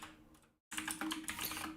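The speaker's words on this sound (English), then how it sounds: "I'm typing them in irresponsibly quickly for absolutely no reason." Rapid typing on a computer keyboard, a dense run of close, crisp key clicks after a brief pause, with no talking.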